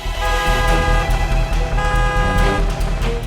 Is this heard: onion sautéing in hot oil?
no